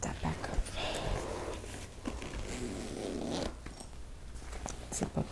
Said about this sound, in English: So let me zip that back up.